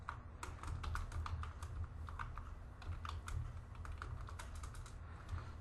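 Fast, steady typing on a computer keyboard, a continuous patter of light key clicks close up with a low constant background hum and no voices.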